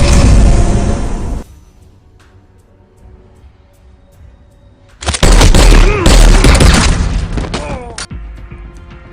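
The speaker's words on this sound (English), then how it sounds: "suddenly, Gon showed up from the elevator and shot him dead" Gunfire in a film scene: a loud, close burst of rapid shots and booms, a quieter lull, then a second heavy volley of overlapping shots that tapers off.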